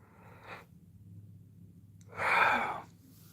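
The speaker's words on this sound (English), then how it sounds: "I can't stop yawning." A woman gives a long, breathy yawn, preceded by a short soft breath, audible alone in a quiet room.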